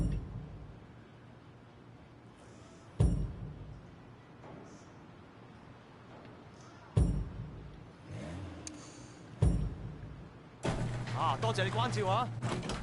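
In the video game Sleeping Dogs, several thuds like car doors shutting, spaced apart, then an engine revving up; people talk quietly underneath throughout.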